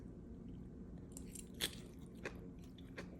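Someone chews fresh lumpia, producing quiet crunchy bites with a few sharp crackles over a low background hum, up close and with no speech.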